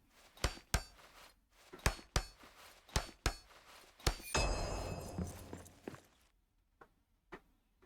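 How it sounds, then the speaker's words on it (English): A hammer repeatedly strikes a wall in the video game Return to Moria: about nine sharp, heavy thuds at a steady pace, then a rumbling crumble as the wall gives way, followed by a few faint knocks. "we wore ourselves out swinging this hammer"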